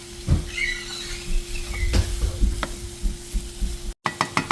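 Onions stirred into bubbling kneophla soup in a pot: a wet, sizzling simmer with repeated spoon scrapes and clinks, close and fairly loud, cutting out briefly near the end before the stirring resumes.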